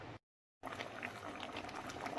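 Steady bubbling and rolling of soup with bamboo shoots, luffa and mushrooms boiling in a pot, a dense continuous hiss after a brief silent gap at the start.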